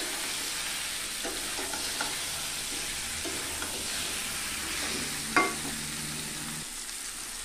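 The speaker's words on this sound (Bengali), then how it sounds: "2-3 মিনিটের মতন আমি একটু ভেজে নেব, যাতে আদার কাঁচা গন্ধটা চলে যায়" Ginger fries in a pan with a soft, constant sizzle and occasional stirring scrapes, and one sharper clink of the utensil near the end.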